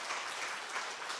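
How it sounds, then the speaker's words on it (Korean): A church congregation applauds to welcome a newly registered member during a Sunday worship service in Cheongju, Korea, a steady wash of many hands clapping throughout. "인사하실 때 크게 박수로 환영해 주시면 감사하겠습니다."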